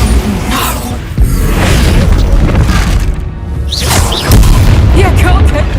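Bombarda spell blasts in Hogwarts Legacy land as heavy booms, two prominent bursts a few seconds apart over a dense, loud game soundscape.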